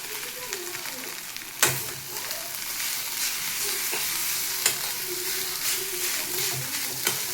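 Egg Maggi noodles with spices frying in a pan and being stirred: a steady close sizzle with scraping stirs and a few sharp knocks of the utensil against the pan, no talking.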